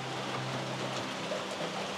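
Steady rain falls outside a hotel balcony overlooking a lake in Malawi, an even broadband patter with no voices.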